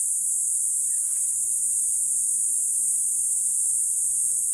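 A loud, continuous high-pitched insect drone near a pineapple farm holds steady throughout, with a faint low rustle beneath and a brief chirp early on.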